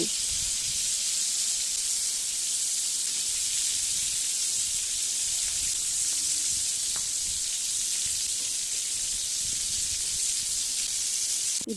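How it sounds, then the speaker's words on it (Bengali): Prawns sizzle steadily in hot oil in a pan for a dai chingri dish, a continuous bright hiss running loud and close throughout with no talking. "এবার এক পাশ ভাজা হয়ে গেলে উল্টে দিয়ে অপর পাশটাকেও হালকা করে ভেজে নিতে হবে।"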